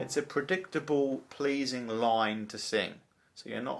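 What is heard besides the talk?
No everyday noise stands out behind the speech.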